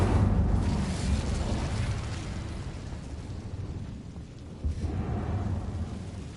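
An Incendio fire spell is cast in a Harry Potter game, a loud roaring whoosh of flame that opens strong, fades into a rumbling tail and flares again briefly near the end.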